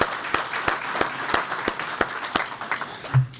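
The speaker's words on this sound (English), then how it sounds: "Would you join me in an applause thanking these sponsors?" Audience applause for the sponsors at an economic forecast forum, a fairly sparse, moderate patter of clapping with distinct individual claps, fading out with a soft low bump at the end.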